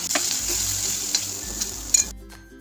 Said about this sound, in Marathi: टोमॅटो मऊ होईपर्यंत आपल्याला भाजू द्यायचा आहे.